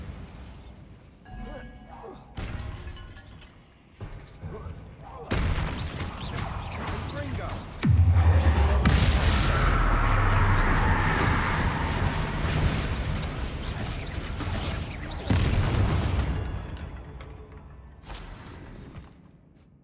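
Bombarda blasting spell cast in Hogwarts Legacy inside catacombs, a heavy crashing explosion with crumbling rubble and a long rumbling tail, amid game ambience and a voice speaking.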